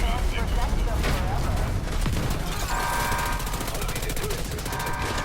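Sustained automatic gunfire in The Division 2 during a raid battle, dense and continuous shooting with overlapping bursts and faint voices mixed underneath.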